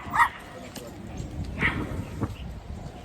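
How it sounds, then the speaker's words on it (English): A small Chihuahua gives a few short, sharp yaps at a distance outdoors, faint and spaced apart beneath low background noise. "It's a little yappy dog."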